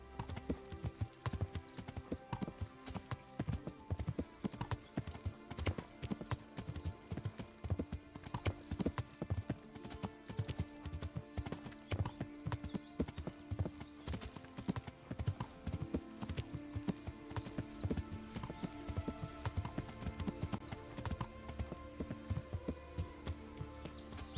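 Horse hooves pounding steadily as a rider travels in Kingdom Come: Deliverance, a continuous fast clip-clop rhythm that is close and fairly loud over a low game backdrop.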